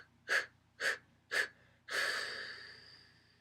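Three short sharp breaths taken in quick succession, about half a second apart, followed by one longer drawn-out breath that fades slowly, close and clear as part of a vocal breathing exercise, with no talking.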